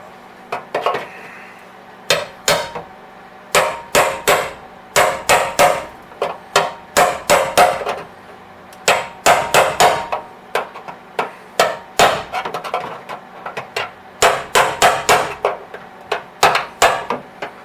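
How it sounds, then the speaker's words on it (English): Repeated hammer-on-chisel strikes against the sheet-metal spare tire well of a Datsun 280ZX, sharp metallic blows in quick clusters separated by brief pauses, close and loud with no talking. "I just got to chisel it down"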